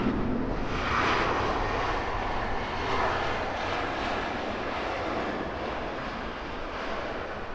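A large aircraft passes at Heathrow Airport, its loud, steady engine roar filling the whole stretch, close and sustained with a slight fade toward the end.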